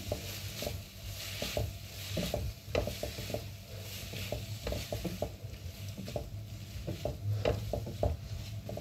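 A chili sauce mixture with crushed red chili cooks in a pan, a soft steady sizzle under repeated scraping and clinking of a spoon stirring against the pan, close and fairly quiet.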